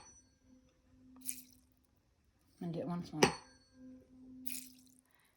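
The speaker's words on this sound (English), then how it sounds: "I'm going to hit the tuning fork and see if I can make some water splash out." A struck tuning fork rings with a steady low hum while water splashes out of a container on a table, with a sharp strike and a brief splatter amid a person talking nearby.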